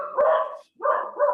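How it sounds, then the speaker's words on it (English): A dog barks twice in the background, a short sharp bark followed by a slightly longer doubled one, fairly close and clear with no talking over it. "Sorry for the barking in the background."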